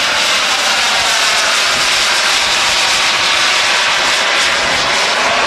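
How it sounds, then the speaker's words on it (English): An Avro Vulcan bomber with 300-series Olympus jet engines roars loudly and steadily overhead at Elvington, a dense, unbroken jet rumble with a hissing edge and no voices. "the Vulcan was given the biggest engines, the 300 series Olympus engines"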